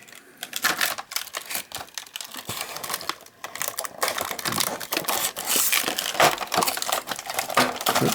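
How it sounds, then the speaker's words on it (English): Matchbox Mission Force Lunar Team toy packaging is torn and crinkled open close up, a dense run of sharp rips, crackles and plastic crunches that grows busier toward the end. "So I'll rip it open."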